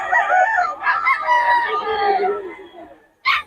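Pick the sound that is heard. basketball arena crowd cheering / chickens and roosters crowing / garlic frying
chickens and roosters crowing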